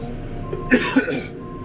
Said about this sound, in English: start coughing and hacking like I have been